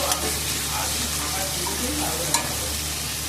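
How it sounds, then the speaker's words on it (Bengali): Prawns coated in salt and turmeric fry in hot oil with a constant close sizzle, broken by a couple of faint stirring taps. "চিংড়ি মাছগুলো আমি ভাজা করে নিই"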